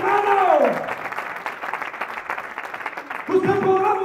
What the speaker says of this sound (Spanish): Den un aplauso a Dios, hermano.